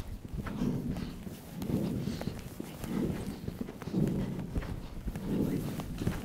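A showjumping horse moves over ground in a steady rhythm of hoofbeats, about five soft thudding clusters roughly a second apart, fairly close and without voices.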